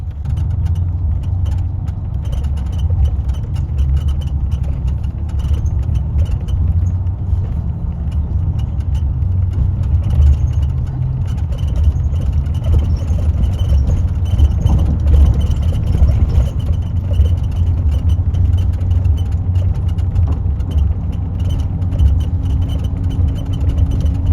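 Steady city traffic on a day trip through Washington, DC: a continuous low rumble of car engines idling and moving, with vehicles passing nearby and no talk.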